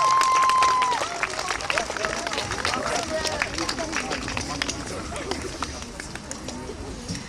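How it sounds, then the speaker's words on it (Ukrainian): Applause from an outdoor audience for performers at a memorial event honouring the Chernobyl disaster liquidators, a dense steady patter of many hands clapping throughout with a brief tone at the start and crowd murmur underneath. "давайте бурні оплески цим творчим людям"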